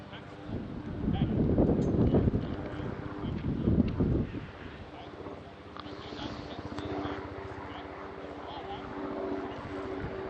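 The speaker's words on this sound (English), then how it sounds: "There's some helicopters in the back. Sounds like it." A low helicopter rotor rumble drifts in the distance beneath wind buffeting the microphone at a high school baseball game, with people talking over it.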